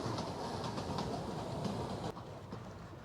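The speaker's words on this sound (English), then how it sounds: "look at those old trains" Old trains at the National Railway Museum in Adelaide produce a steady, fairly loud rolling rumble with faint clicking, then ease to a slightly quieter level near the end, with no talking.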